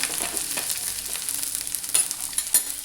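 Whole spices, including shahi jeera, sauté in a pan for cauliflower bhaji: a steady bright sizzle with a few sharper stirring clicks near the end, close and alone without voices.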